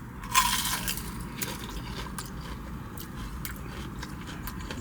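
Crisp crunching bite of fresh onion rings up close, a sharp crackle at the start followed by a few softer crunches of chewing over a low steady background hum.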